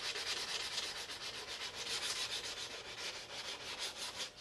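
Sandpaper rubbing down dry putty on a 1:350 scale plastic Enterprise model kit makes a continuous close, hissy scratching with a quick back-and-forth pulse, steady and fairly soft, with no speech.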